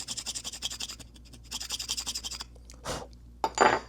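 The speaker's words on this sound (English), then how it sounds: "We'll try and scrape it all off." Scraping material off a metal workpiece held in a vise while practicing koftgari, rhythmic rasping strokes in two close bursts, followed by a couple of louder single scrapes.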